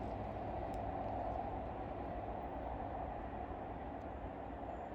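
A train rolls past at Lostwithiel station in Cornwall, a steady rumbling roar with rail noise that holds loud and close for the whole stretch, with no voices over it.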